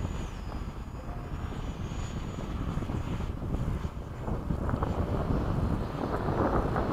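An F/A-18 jet on afterburner during a formation takeoff makes a broad, rumbling roar mixed with wind buffeting, heard from inside and building steadily louder over several seconds, with no talking.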